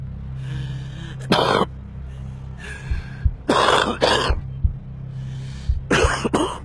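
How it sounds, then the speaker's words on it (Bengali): A smoker's harsh, hacking coughs come in several separate fits with pauses between them, close up, over a low steady hum. "স্মোকার্স কফ, ধূমপায়ীর কাশি"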